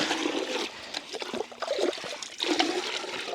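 Water poured from a mug splashes in a few short bursts, close by, with trickling between pours.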